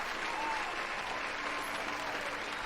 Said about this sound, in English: Everyone give Jay a round of applause.